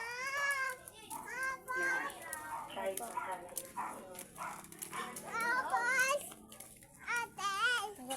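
A cat meows at a playground at night, the cries rising and falling among a child's chatter and an adult's voice, with people talking over and around it throughout.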